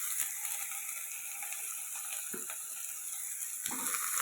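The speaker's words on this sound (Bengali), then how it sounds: "তো এটা একটু ফ্রাই করে নিই" Potatoes and onions fry in a pan with a dense, continuous hiss and crackle, close and steady, with a few faint clicks and scrapes and no talking.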